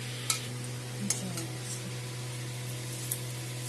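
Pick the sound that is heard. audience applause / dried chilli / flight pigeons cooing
dried chilli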